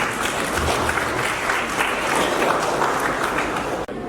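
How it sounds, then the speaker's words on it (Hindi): An audience at a Hindi poetry gathering gives sustained applause: loud, dense clapping from a crowd that runs evenly for about four seconds, then stops abruptly. "आप लोग जरा जोरदार तालियां बजाइए।"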